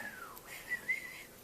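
A person whistles an imitation of a whippoorwill call: a short sliding whistle followed by a quick trill, close and fairly faint, without other sounds.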